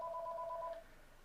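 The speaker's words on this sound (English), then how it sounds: "Sorry about that. That's my phone." A mobile phone notification chime goes off indoors: a short, clear pair of pulsing tones lasting under a second, fairly faint, then fading into quiet room tone with no talking.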